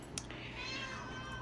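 A pet cat gives a single quiet, drawn-out meow indoors, fairly close, with no one talking.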